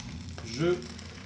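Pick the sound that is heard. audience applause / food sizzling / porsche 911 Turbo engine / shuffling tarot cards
food sizzling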